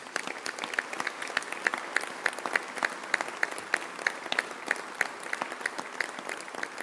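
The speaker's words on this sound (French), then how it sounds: "j'aimerais qu'on vous applaudisse pour votre bienveillance" An audience at a New Year's address applauds in a rhythmic, synchronized clap, sharp regular beats about three per second over a steady crowd bed, continuous and fairly close.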